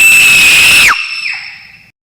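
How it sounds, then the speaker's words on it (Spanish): A piercing, desolate scream as a sound effect, one long high cry that bends sharply downward and trails off into a fading echo. "a don Antón y don Breogán, dejando tras ellos un llanto desolador y un grito desgarrador que horadaron las entrañas de la noche"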